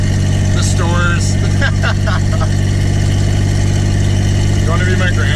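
A slow Volvo car's engine hums steadily at low pitch throughout while driving, loud and continuous, with people talking over it.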